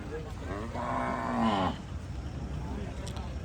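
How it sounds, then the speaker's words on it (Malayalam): Kangayam cattle at a cattle market give a single long, loud moo lasting about a second, heard close against a steady background of market murmur. "ഇതൊക്കെ നല്ല ക്വാളിറ്റിയുള്ള കാങ്കയം പശുവാണ്"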